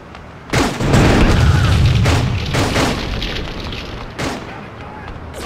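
Rocket launcher blasts in the GTA2 video game, a few loud booming explosions, one at the start and another near the end, with rumbling decay between them.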